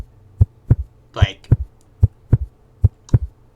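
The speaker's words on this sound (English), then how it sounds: "the anxiety decreases, the heartbeat slows down and becomes more quiet" An anxiety-mechanic heartbeat effect in an Unreal Engine game thumps in steady, deep double beats about every third of a second apart, loud and alone, with one brief noisy swish between beats.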